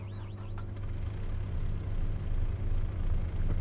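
A tractor engine starting up in Farming Simulator 22, a low rumbling hum that settles into a steady idle, with a brief whining sweep at the start.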